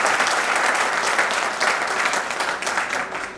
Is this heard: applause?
yes